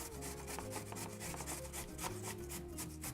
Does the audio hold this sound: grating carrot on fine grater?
yes